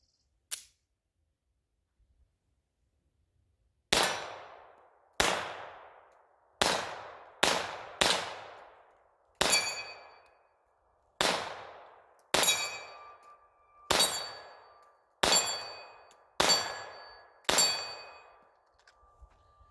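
A Beretta 81 pistol fires about a dozen sharp, separate shots at a steady, unhurried pace after one early crack, each ringing briefly before the next, with no talking.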